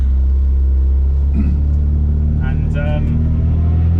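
A classic Mini with a 1380cc John Cooper conversion pulls hard under acceleration, its loud steady engine drone heard close from inside the car, with brief voices talking over it.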